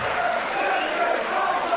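A wrestling crowd at a Copenhagen show applauds after a main event, steady dense clapping that fills the hall, with a commentator's voice over it.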